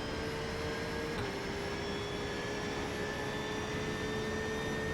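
A steady, loud engine whine drones throughout with a constant high tone, a race car held at speed at Sebring International Raceway in a racing video game, with no talking.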